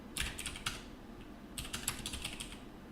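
Quiet typing on a computer keyboard while writing a note, two short clusters of crisp key taps separated by a pause.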